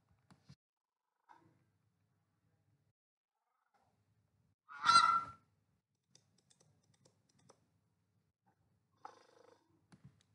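Grunt animal sound effect from the Scratch sound library, a single short rough burst roughly half a second long, standing alone amid near silence with only faint clicks around it.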